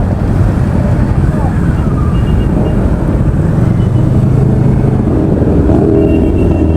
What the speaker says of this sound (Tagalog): Dami mga motor dito guys,